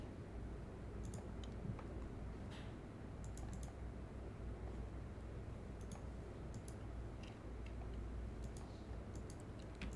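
Faint computer mouse clicks tick sparsely over a low steady background hum at a desk, scattered single and double clicks spread across ten seconds.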